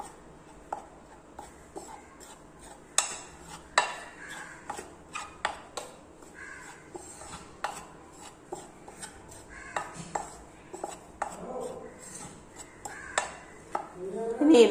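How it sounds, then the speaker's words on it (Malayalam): Batter for a Kerala tea-stall style vettu cake is mixed in a bowl, giving quiet, irregular taps and scrapes of a spoon against the sides, spread steadily across the whole stretch with no talking. "ഇനി ഇതെല്ലാം കൂടി നമുക്ക് നന്നായിട്ട് ഒന്ന് മിക്സ് ചെയ്തു കൊടുക്കാം"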